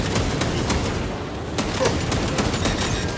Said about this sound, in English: watch the explosions